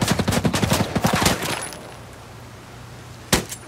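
Sniper gunfire in the Desert Eagle survival video game: a rapid burst of sharp shots over the first second and a half, then a quiet lull and one more lone crack near the end.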